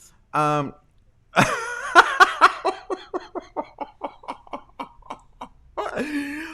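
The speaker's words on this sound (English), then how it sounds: "I'm sorry I coughed on you." A person coughs close into an unmuted microphone during a live online broadcast, a quick run of sharp rhythmic coughs that fades out, with a brief vocal sound just before and after.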